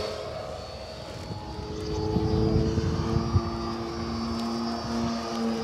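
A Hangar 9 P-47 Thunderbolt 58-inch electric RC warbird flying on 4S batteries gives off a steady, growly propeller and motor drone that swells slightly as it passes, heard at moderate distance with outdoor wind noise and no talk.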